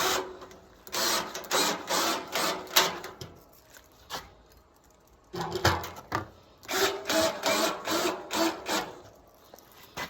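Screws are driven into metal during a wood stove kit installation, with a power driver whirring in repeated short pulses in two groups, close and loud with brief pauses between.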